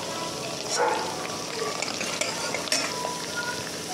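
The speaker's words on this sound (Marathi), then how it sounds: "कांदा आणि लसूण होऊ द्या." Onion and garlic fry in a pan with a steady, fairly loud sizzle, broken by a few stirring scrapes and a utensil clink close by.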